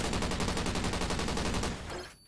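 Rapid sustained automatic gunfire from a video game, a loud, evenly spaced burst of shots that rattles for about two seconds and then cuts off abruptly, with no voices.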